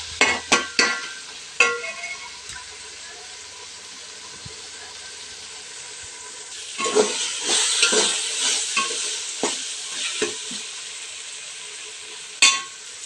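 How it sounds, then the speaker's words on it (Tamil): Onion and tomato sautéing in a pan with turmeric for a chicken curry, a steady sizzle broken by loud scraping stirs of a spoon, with a burst of vigorous stirring midway and a sharp scrape near the end; no talking. "வெங்காயம் தக்காளி நல்லா வதங்கிடுச்சு."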